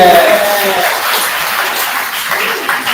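A crowd bursts into applause with scattered cheers, a dense, continuous clatter of clapping that stays loud throughout.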